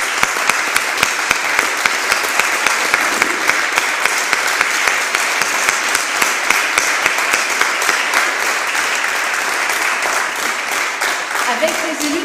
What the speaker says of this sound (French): Je crois qu'on peut là aussi peut-être les applaudir